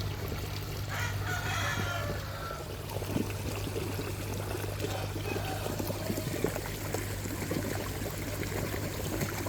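Water gushes from the outlet of a 3-inch airlift pump with a 2-inch output, set level with the water surface: a steady, forceful pouring rush, close by, with a rooster crowing and hens clucking in the background.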